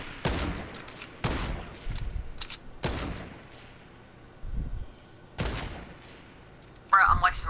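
Gunfire in Fortnite, five or six separate loud bursts of shots spaced a second or so apart, each sharp and booming with quiet gaps between, ending with a final blast and a brief electronic chirp.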